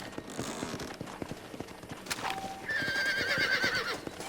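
Horses in the Red Dead Redemption western video game whinny and neigh shrilly over steady clip-clopping hooves, one drawn-out whinny rising clearly above the hoofbeats near the end.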